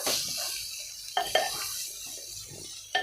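Cucumber curry is stirred in a pan with a few sharp scrapes and clinks of the spoon against metal over a soft background sizzle.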